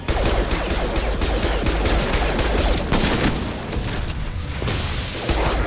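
Rapid, continuous sci-fi weapon fire from the video game Mass Effect Legendary Edition, loud dense bursts of shots with brief pauses, close and alone with no talking.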